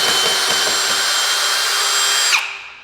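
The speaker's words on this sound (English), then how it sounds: "You can do this with a screwdriver, but we recommend using a power drill because it's going to make this step a lot faster." A power drill backs screws out of the wooden shipping pallet of a Voodoo or 305 Ghost electric bike, whirring loud and steady at close range for over two seconds before spinning down abruptly.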